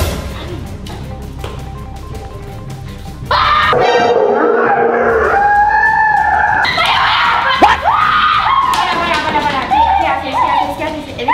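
A girl screams in fright at a clown mask prank, loud piercing shrieks that erupt suddenly after a quieter stretch and continue in several bursts, with other voices and commotion mixed in.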